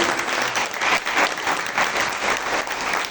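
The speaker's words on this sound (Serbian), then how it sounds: "Molim vas još jedan aplauz za ove aplauz." Audience applause at a children's day event, a steady wash of clapping from a crowd that keeps going at full strength for the whole stretch without pause.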